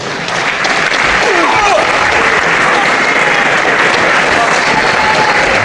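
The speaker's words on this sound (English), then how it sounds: "I'm sure you give him a very big round of applause." Loud, sustained applause from a British wrestling crowd after a World of Sport bout in 1976 rolls on steadily without a break, a dense wash of clapping that fills the hall.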